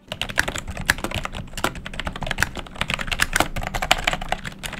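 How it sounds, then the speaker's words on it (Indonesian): Rapid, uneven key clicks from a Dragonwar Gladiator gaming keyboard being typed on, a steady clatter of close, crisp keystrokes filling the whole stretch with no voices. "ini dia 5 detik suara keyboardnya"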